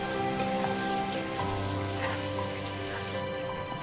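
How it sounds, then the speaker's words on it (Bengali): Pumpkin and potato pieces frying in oil while being stirred, a loud continuous sizzle and crackle with faint scraping, no voices. "এইবার কুমড়ো আর আলু প্রথমে 3 থেকে 4 মিনিট এইভাবেই কন্টিনিউ নাড়াচাড়া করে একটু ভেজে নেব।"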